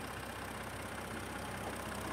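A Range Rover P400 engine, a 2021 HSE Westminster Edition beneath a plastic engine cover, idles steadily with a smooth, even hum and faint ticking texture, no voices.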